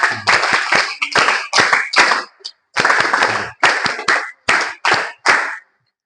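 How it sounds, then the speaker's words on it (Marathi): Clapping in bursts at a school welcome for new students in Kandalgaon, loud and close, several rounds of rapid hand claps separated by short silences. "जोरदार टाळ्या वाजवा"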